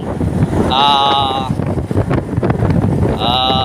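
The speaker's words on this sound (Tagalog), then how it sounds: "Napakahangin mga kababayan. Mahangin talaga." Strong wind buffets a microphone on an old bridge connecting Mandaue and Lapu-Lapu, a loud continuous roar with gusts, while someone talks over it throughout.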